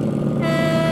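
Loud, close motorcycle engines rumbling steadily on a memorial ride, a big black bike among them, with a sustained tonal drone like a horn joining partway through.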